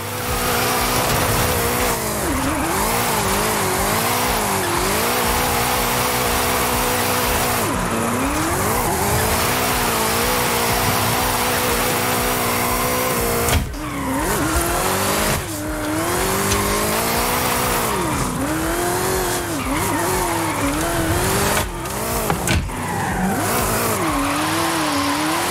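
A car drifts in the Forza Horizon 5 racing game. Its tires squeal continuously and loudly over a revving, wavering engine note, with brief breaks as it shifts between slides and no voices.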